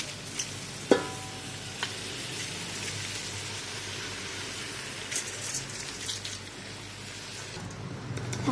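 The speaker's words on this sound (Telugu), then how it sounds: "ముందుగా మనం నానబెట్టుకున్న బాస్మతి రైస్ని ఇందులోకి యాడ్ చేద్దాం." Soaked basmati rice goes into a pan with paneer, giving a soft, steady sizzle and wet crackle with a few small clinks near the start, quiet and even throughout.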